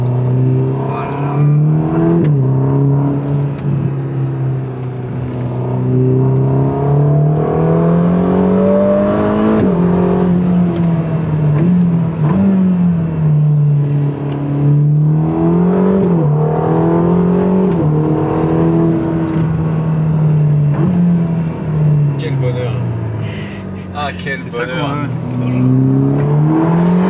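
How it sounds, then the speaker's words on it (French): A Ferrari Roma engine accelerates along a mountain road, a loud, steady drone from inside the car that rises and falls in pitch as it revs through gears. People talk over it throughout. "Il y a tellement de reprises ce moteur,"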